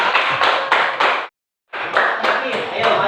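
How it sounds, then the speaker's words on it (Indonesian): A classroom group claps hands together in quick rhythmic bursts, briefly stopping for a moment of silence before resuming the lively clapping. "Ya, tepuk tangan di kelompok"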